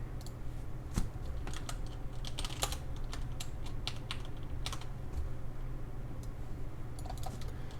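Quick, light keystrokes on a computer keyboard, irregular clicks in short bursts, close and fairly quiet, with no talking.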